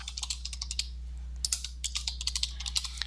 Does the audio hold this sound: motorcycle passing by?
no